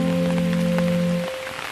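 Rain falling on surfaces, a steady patter heard alongside a sustained hum that cuts off partway through, with the pattering continuing more quietly afterward and no talking.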